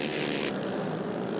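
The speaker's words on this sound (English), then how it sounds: "I can hear that 4-cylinder engine working the outside line." A 4-cylinder race car engine works the outside line on an ice race track at a winter festival, a loud, steady, close-up drone that sweeps past in one continuous roar.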